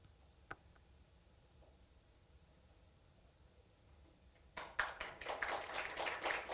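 Audience applause at an academic history academy opening ceremony breaks out suddenly after a quiet pause, a burst of many hands clapping that builds and continues.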